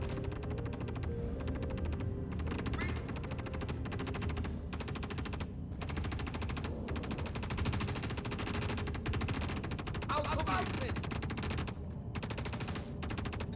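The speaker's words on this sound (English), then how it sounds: "rather ferocious gunfire going on down there" Rapid machine-gun fire and bursts of shots in the video game Star Citizen, dense sustained volleys rattling on with brief gaps, moderately loud and somewhat distant, with no voices over it.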